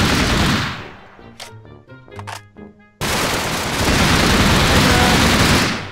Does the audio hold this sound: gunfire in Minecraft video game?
yes